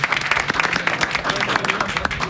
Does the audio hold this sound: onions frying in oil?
no